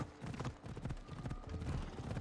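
Horse hooves clip-clop in a steady, rhythmic trot in the video game Assassin's Creed Odyssey, close and continuous beneath soft game ambience.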